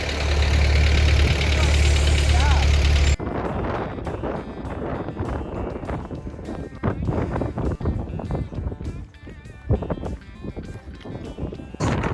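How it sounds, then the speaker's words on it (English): A parked motorbike's engine runs loud and close for about three seconds, a low steady drone with wind buffeting. It then cuts to quieter outdoor ambience with scattered knocks and rustles. "So I park my bike here"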